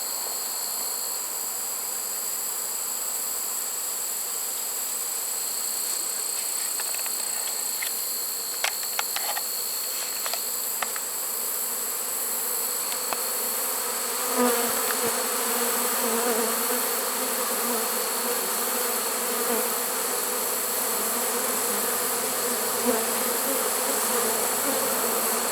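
Honeybees released from nearby hives fly around a swarm trap outdoors, making a steady, dense buzzing hum that carries on throughout, with a few brief clicks and taps mixed in.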